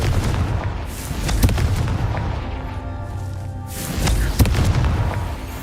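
A Confringo blasting spell in Hogwarts Legacy erupts in booming bursts, with heavy low thumps and crackling debris near the start and again toward the end over a rumbling game backdrop.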